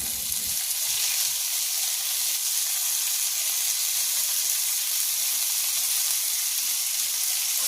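Chopped potato hitting a pan of softened onions in a village kitchen sizzles and fries continuously, a steady bright hiss at moderate level with no voices.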